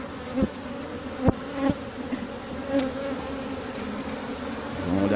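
Honey bee swarm droning steadily at an open hive during an inspection of a new colony, a dense continuous buzz with a few sharper bee passes close by and no talking.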